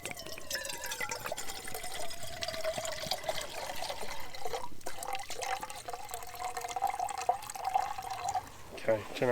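Water poured into a Fire Maple titanium camping pot beside a wood-burning camp stove, a rising, gurgling trickle as the pot fills, with someone talking over it.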